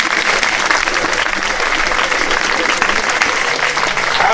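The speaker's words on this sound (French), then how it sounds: "Vous pouvez les applaudir aussi." A crowd at a parish school's end-of-year celebration claps in sustained, loud applause that carries on without pause.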